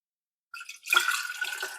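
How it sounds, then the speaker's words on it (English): Water pours into a drink container while prepping a homemade tea, a short trickle starting after a brief silence and then flowing steadily, close and clear. "I'm going to pour in my water first"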